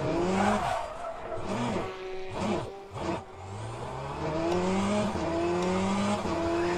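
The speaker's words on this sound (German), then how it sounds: "der Wagen rastet sofort aus, wenn ihr zu schnell in der Kurve seid" A race car in the Le Mans Ultimate sim loses grip in a corner, its engine revving and swooping up and down through gear changes while tires squeal and skid, loud and continuous with no talking.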